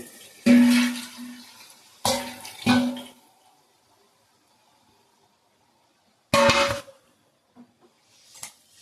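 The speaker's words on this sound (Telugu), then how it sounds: "ఇప్పుడైతే నేను వాటర్ పోస్తున్నానండి" Water splashes into a pot of spotted snakehead fish mixed with chili paste in three short pours, separated by quiet gaps, followed by a few faint clinks.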